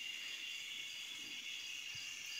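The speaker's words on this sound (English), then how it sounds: "there's the cicada. Well, there's more than one, but that's the loudest one." Cicadas and crickets near a pond, a dense continuous high buzzing drone that holds steady and fairly loud for the whole stretch, with no pauses and no voices.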